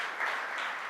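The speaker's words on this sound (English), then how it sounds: "can we have a loud cheer for all of them" Audience applause for a panel of speakers at a discussion event, a steady broadband wash of clapping holding evenly for under a second, moderately quiet, with no voices over it.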